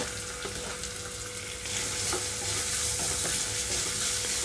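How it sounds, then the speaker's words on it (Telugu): Chopped onions and green chillies frying in a pan for a tomato and green peas curry, a steady close sizzle that grows louder partway through, with occasional stirring scrapes. "ఇక్కడ నేను ఉల్లిపాయలు, పచ్చిమిరపకాయలు కొంచెం వేగనిస్తున్నాను ముందుగా."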